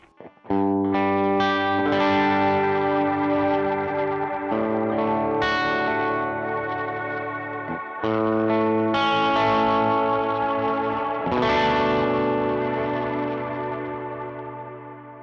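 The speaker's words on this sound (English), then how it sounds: "even though it's a big reverb, it's still very clear, very present" A Strymon BigSky reverb pedal on a bloom preset with generous pre-delay washes sustained guitar chords into a big but clear ambient swell, with several struck chords ringing long and fading gradually at the end.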